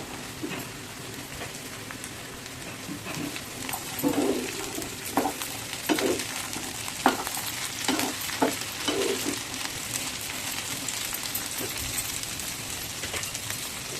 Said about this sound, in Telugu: ఇప్పుడు చిక్కుడుకాయలు అయితే మొత్తం వేసేసుకోండి.